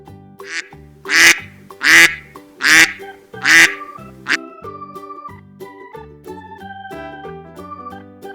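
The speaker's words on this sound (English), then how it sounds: "Goose." A farm goose gives four loud, evenly spaced honks, close and clear, followed by a soft melodic tune.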